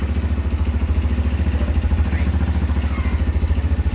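A CFmoto Papio XO1 motorcycle with an overly tight, noisy chain idles nearby with a fast, even throb and a metallic clatter running through it for the whole stretch.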